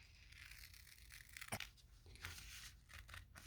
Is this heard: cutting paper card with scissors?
yes